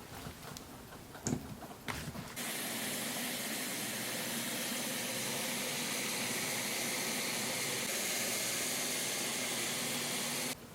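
Tomatoes being minced in an electric grinder for a canned salad: after a few faint knocks, a loud, steady motor whir starts and runs on without a break.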